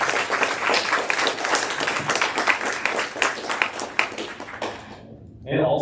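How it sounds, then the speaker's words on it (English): Applause from the crowd at an Unreal XR game jam event, a dense, sustained wash of clapping that fades out near the end, with voices talking over and after it. "So please give a round of applause to Orlando."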